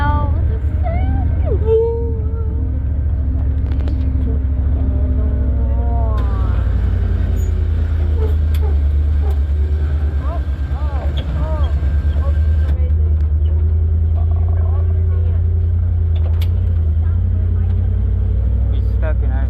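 Tour truck driving onto sand with a bar deployed: a loud, continuous low engine drone with scraping and rumbling over the ground, while people talk throughout.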